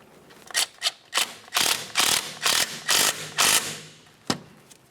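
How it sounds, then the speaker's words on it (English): A ratchet tightens the 14mm bolt on the front strut assembly of a 2009-2010 Pontiac Vibe, making about nine quick, loud clicking bursts in a regular rhythm, close up and alone. "Once it's lined up, continue on with your 14mm headed bolt."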